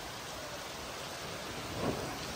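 Rain falls as a steady, dense hiss with no break, close and even throughout, with a slight swell near the end.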